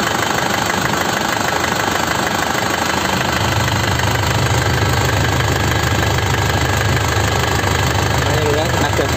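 A 2006 Grand Touring with a manual gearbox, its engine running steadily and loud up close, shifting into a deeper rev partway through with a constant droning rumble, while a person speaks briefly.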